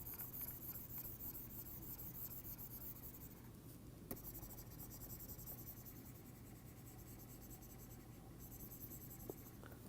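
A pen draws a pattern on paper, a faint, continuous scratchy rubbing heard up close under a low background hum, with a couple of small taps.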